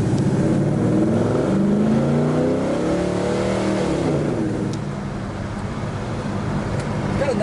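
A 1970 Chevrolet Chevelle SS engine accelerates on the road, loud and close from inside, its pitch rising and falling through gear changes before easing off and building again.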